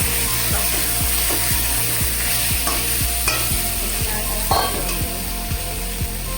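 Pieces of fish and potato frying in spice masala in a pan, a steady sizzle broken by a regular scraping stroke of the spoon about twice a second, close and fairly loud.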